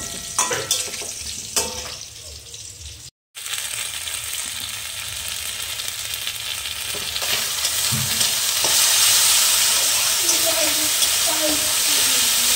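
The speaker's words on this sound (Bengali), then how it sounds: "আর এই দেখো ওখানে হচ্ছে আলু ভাজা" Potatoes frying in a pan in a home kitchen, with a steady sizzling hiss that grows louder toward the end and a short dropout early on.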